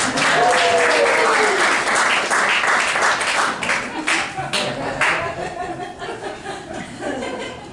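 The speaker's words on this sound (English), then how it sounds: "Let's keep that round of applause going for me." Loud sustained applause and clapping from a comedy show audience at Tucson Improv Movement, dense at first and then thinning out, with laughter and a voice talking over it.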